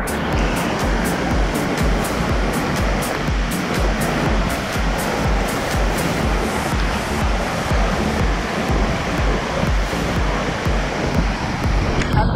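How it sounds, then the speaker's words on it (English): Kawasan Falls in Cebu, Philippines: a waterfall's constant rushing roar, dense and loud, pours steadily without pause; no one speaks. "Look at the waterfall."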